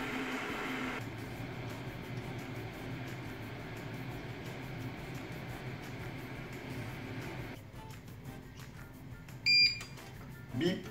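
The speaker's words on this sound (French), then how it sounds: "Bip, on est à la fin de la cuisson." A Jaren electric kettle used for cooking pasta gives a short, sharp electronic beep near the end, followed by a second faint blip, after a steady rumble of heating water.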